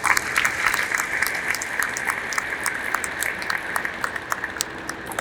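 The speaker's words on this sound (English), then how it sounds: "Let's give a round of applause to our medics." An audience at a military change of command ceremony applauds the medics: dense, continuous clapping from a large crowd, close and steady throughout with individual sharp claps standing out.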